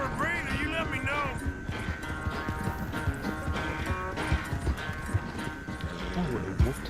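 Horse hooves clip-clop in steady rhythm as a horse moves in Red Dead Redemption 2, an animal not fully trained, heard beneath continuous game music and voices talking.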